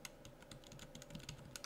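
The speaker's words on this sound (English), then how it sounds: "I'm using the arrow keys on my keyboard" Arrow keys on a computer keyboard are tapped in a quick run of soft, close clicks at a steady rhythm, faint and without speech.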